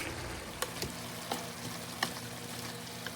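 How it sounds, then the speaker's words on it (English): Honey pasta sauce sizzles and fries in a pan while being stirred, with a steady crackling bed and a few sharp scraping clicks of the utensil, close and alone without talk. "So let's give it a little stir."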